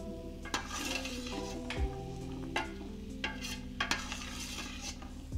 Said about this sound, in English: I'm gonna stir and cook these onions and celery for just a few minutes